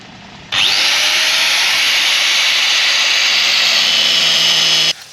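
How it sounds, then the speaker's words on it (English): A power tool grinds steadily through salt-corroded boat anchor chain in the Caribbean, a loud, continuous hissing whine that starts abruptly, holds for about four seconds, then cuts off, with no talking. "So I finally chopped up the chain."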